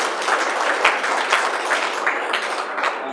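An audience at a political event applauds a congresswoman, a brief burst of dense, lively clapping from many people, close and fairly loud.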